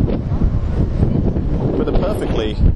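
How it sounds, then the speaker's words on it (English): Steady wind roars across an outdoor microphone on a windy day, a loud continuous rumbling buffet with gusty swells and no break throughout. "windy today,"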